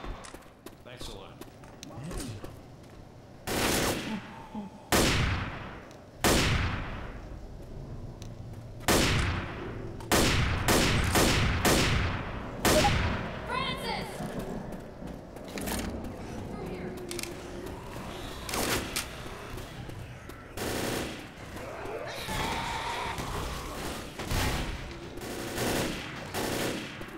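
Repeated bursts of gunfire in the zombie shooter Left 4 Dead, No Mercy campaign, crack out in quick volleys and rapid strings across the stretch, loud and close, with players talking over the shooting.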